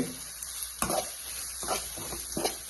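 Coconut fries in a little oil with a soft, quiet sizzle, punctuated by several brief scraping stirs of a spatula against the pan, close by with no talking.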